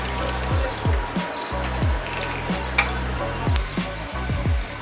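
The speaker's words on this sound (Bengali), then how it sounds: "কড়াইতে আমি এক কাপ পরিমাণ সয়াবিন তেল ঢেলে দিচ্ছি" About a cup of soybean oil goes into a wok heating on a stove, giving a steady close-up hiss with repeated clanks of metal on metal.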